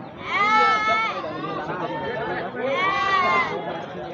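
A goat bleats twice in long, wavering cries, close and loud, with people chattering quietly in the background.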